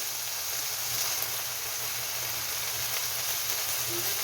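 Yakisoba noodles fry in a pan with a steady, close hissing sizzle that continues without a break, and no voices are heard.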